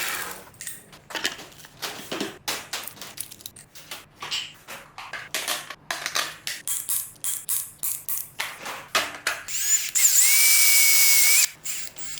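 Power drilling holes in metal L brackets for a C6 Corvette drift car build, in repeated short bursts, followed by a steady, sustained high-pitched whine of the drill biting through, close up.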